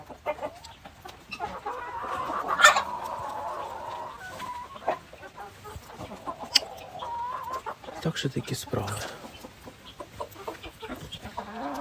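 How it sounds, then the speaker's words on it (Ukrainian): Hens and roosters cluck and chatter while feeding in a henhouse, with a louder squawk early on, while someone talks over the flock. "Курочки всі їдять, півники їдять."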